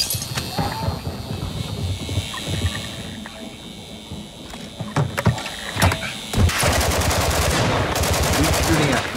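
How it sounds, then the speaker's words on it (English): Gunfire in the video game Call of Duty DMZ, bursts of rapid automatic shots and single cracks with mechanical clatter, building into a loud sustained fusillade near the end, with a voice talking over parts. "Stop shooting at me."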